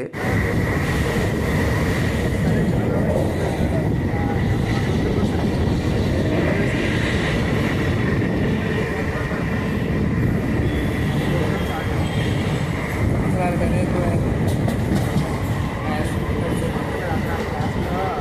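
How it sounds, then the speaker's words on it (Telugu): An EMU local train on the Tirupati–Arakkonam line runs steadily, a continuous close rumble and rattle with a thin high whine throughout, with faint background chatter. "10 minutes నుంచి ఇక్కడే ఆగిపోయింది ట్రైన్ అయితే, జస్ట్ ఇప్పుడే స్టార్ట్ అవుతుంది."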